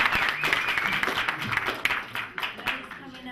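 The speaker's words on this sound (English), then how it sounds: "clap if you want Guy Stores to join the panel" Scattered audience clapping at a health care panel discussion, uneven and patchy, with voices talking over it.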